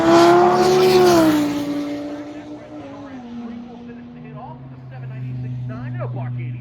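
A pair of Audi race cars roar along a racetrack, engine notes sweeping down in pitch as they pass close by, then fading as another engine rises in the distance, with a commentator talking over the noise.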